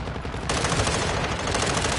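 Loud automatic gunfire in a shooter video game: a dense, continuous burst of rapid shots that grows fuller partway through, with no voices.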